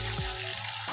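Masala with mustard seeds and curry leaves fries in hot oil, a bright steady sizzle heard close and continuous for a brief moment, with a low hum underneath.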